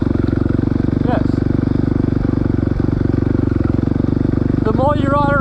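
A dirtbike engine runs loud and close with a steady, throbbing motor note throughout, a brief pitch rise near the end as the throttle blips.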